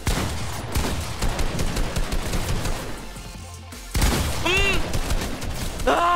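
Rapid bursts of video game gunfire crackle loudly and continuously, with sharp sweeping electronic tones cutting in near the end.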